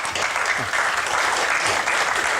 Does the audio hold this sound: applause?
yes